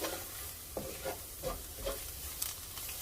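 Flour dredge stirred into rendered fat in a pot to make a roux for pot roast gravy, a soft continuous sizzle broken by a few scraping spoon strokes, close and fairly quiet.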